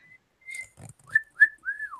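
A person whistles a few short, bright notes close by, with a quick rising-and-falling whistle at the end and a soft low thump in between.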